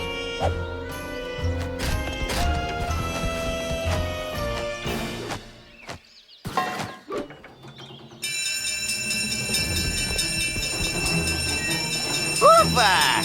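A cartoon train rattles along as a crossing barrier lowers, with mechanical clanks and a brief crash, then a bright warning-bell tone takes over near the end amid children's-show music.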